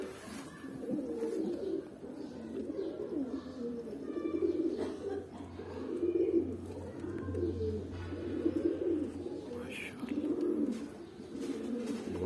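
Pigeons coo softly and steadily in low, repeated rolling calls, close by, with faint background noise throughout.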